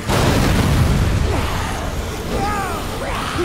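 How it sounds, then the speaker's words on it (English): Explosions in the video game Dead Rising 3 roar as a loud, continuous rumbling blast that fills the whole stretch, with whistling and crackling debris layered over it. "Things are exploding!"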